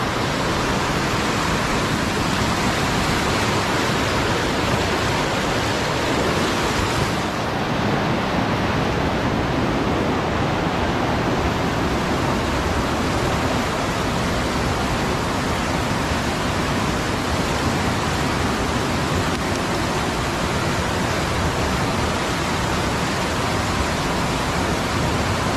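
A river rising in flood rushes past the bank, a loud unbroken roar of churning water filling the whole stretch without pause.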